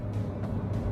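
A Renault Triber's 1-liter three-cylinder engine running, 53 kW and 138 Nm: a gruff, rough low rumble with slight rhythmic pulsing, brief and fairly faint, with no talking.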